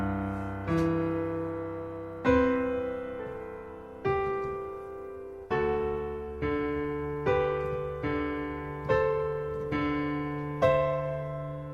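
Solo piano plays the third and fourth measures of a song's intro in an early intermediate arrangement: about eight clear, evenly paced struck notes and chords, each ringing and decaying, heard alone without talk.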